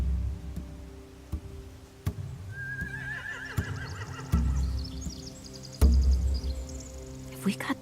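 Horses in a video game whinny and neigh several times amid clopping hooves and sharp clicks, with a rising high neigh standing out over a steady background hum.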